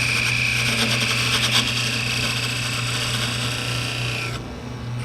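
Parting tool cutting a 3/8 inch tenon on spinning wood on a lathe, for a toothpick dispenser: a continuous close scraping hiss over the steady hum of the lathe, cutting off shortly before the end while the motor keeps running.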